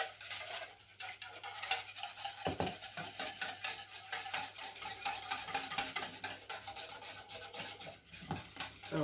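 A spoon stirs yogurt ferment in a salad bowl, giving steady scraping and clinking strokes in a continuous rhythm, close and fairly loud, with no talking.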